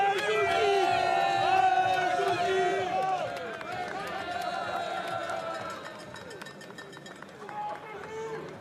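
Fans cheer a rider on a women's elite cyclo-cross World Cup course at Hoogerheide, a lively crowd of whoops and shouts with clapping that gradually fades, while a commentator talks over it.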